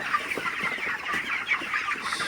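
Broiler chickens in a poultry shed cluck and murmur continuously at moderate distance, a busy overlapping flock chatter with no voices.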